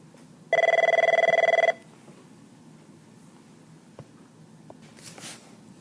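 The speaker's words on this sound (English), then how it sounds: "I'm at school and the phone just rang." A school telephone gives one loud electronic ring burst lasting about a second, a steady trilling tone, followed by quiet room ambience with a few faint knocks and shuffles.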